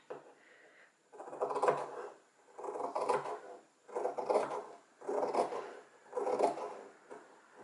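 Scissors cut excess fabric about half a centimetre from the seam of a sewn vest, a run of five steady snipping bursts roughly a second apart, close and moderately quiet, with no talking.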